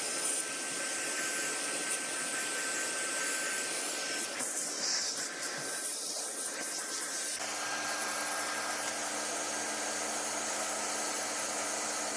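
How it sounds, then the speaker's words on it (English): A vacuum cleaner drones with a loud, steady hiss as it cleans a channel cut for a drainage pipe, and its tone shifts partway through as the nozzle moves. "We'll give the channel a good clean with a brush and a vacuum cleaner."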